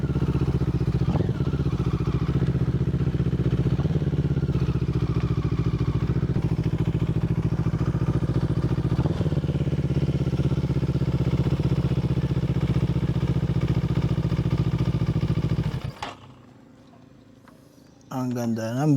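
A CFMoto 650NK motorcycle idles steadily and loudly up close in a residential subdivision, a constant deep engine rumble for most of the stretch before it suddenly drops away near the end, with a person talking over it.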